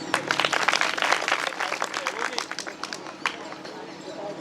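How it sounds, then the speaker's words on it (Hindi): Scattered, uneven clapping from an audience at a devotional katha on the story of Bhakt Prahlad in Banwara, sharp claps rising and thinning out, with a voice speaking over them. "ताली बजाओ"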